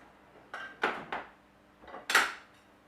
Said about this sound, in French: Première chose, je prends une casserole.